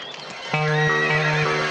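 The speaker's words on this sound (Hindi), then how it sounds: "घोड़ा तैयार है तो ले आइयो।" A horse neighs loudly and close by in a long harmonic whinny, with a few clip-clop hoof sounds beneath it and no talking.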